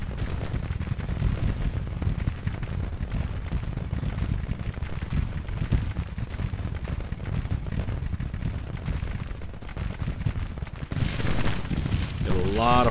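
Gunfire and artillery crackle and rumble continuously through a Grand Tactician: The Civil War battle, loud, dense and unbroken, with a voice talking over the fighting.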